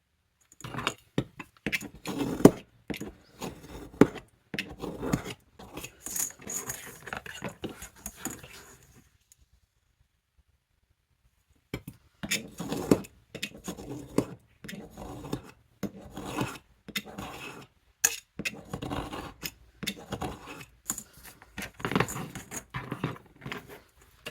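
Cardboard being cut for box making, a series of close, sharp scraping and rasping strokes in irregular bursts, with a silent pause midway before the cutting resumes.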